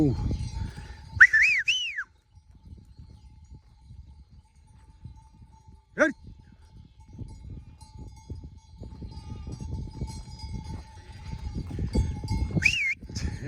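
Several sheep bleats, a couple near the start and one near the end, with a sharp whistle in the middle over low rumbling outdoor noise.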